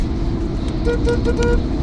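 A car horn gives several short toots over a loud, constant rumble of road traffic.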